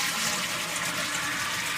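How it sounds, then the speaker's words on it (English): A toilet tank refills after the wax seal replacement with a steady, close hiss and rush of water that stays even throughout, with no one talking. "So the tank just filled."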